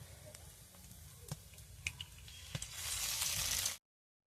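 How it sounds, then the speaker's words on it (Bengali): An egg cracked into a little hot white oil in a pan, starting with faint crackles and soft pops, then a steady loud hiss of sizzling that builds and cuts off abruptly. "ডিমটা ফাটিয়ে দিলাম।"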